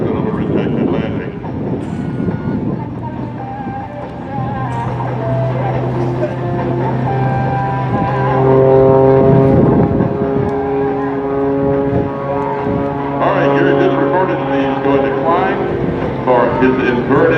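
Gary Ward's MX-2 aerobatic airplane flies a rejected landing at an air show, its loud droning engine rising and falling in pitch as it passes, with crowd noise and an announcer's voice under it.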